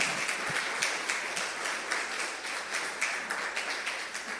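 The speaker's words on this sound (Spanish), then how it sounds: "Denle un aplauso al Señor." Church congregation clapping in a Spanish-language sermon, a soft, sustained patter of many hands heard from a distance at low volume, with no talking over it.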